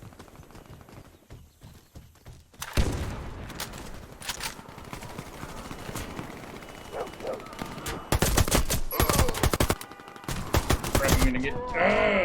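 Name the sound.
gunfire from a video game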